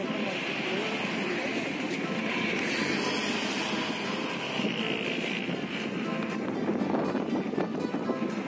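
Continuous rumbling train noise with a steady whoosh of wind and rolling wheels, loud and sustained throughout, as a train crosses the Pamban sea bridge at Rameswaram.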